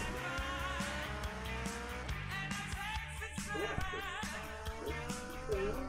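Motorbike engine revving with tire skids in GTA Vice City, a steady loud game engine drone with whining pitch shifts and scraping squeals throughout.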